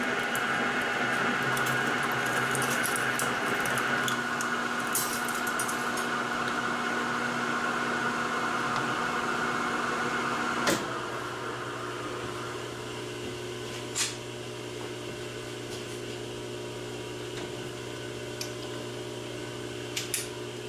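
A lathe drills into an O1 steel jacket drawing die from the tailstock with a steady, loud machine whine and hum. The tone shifts partway through, and a few sharp ticks and clicks follow.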